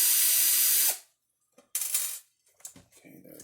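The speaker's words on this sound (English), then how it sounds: "Grab a drill to do that. It's going to be 4 screws on the bottom." A power drill whirs for about a second while backing out the bottom screws of an ECX Torment RC truck, followed by small clicks and rattles of screws and parts being handled nearby.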